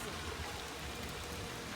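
Rain falls in a steady, fairly close hiss of drops on surfaces, continuous through the brief moment, with no clear voices.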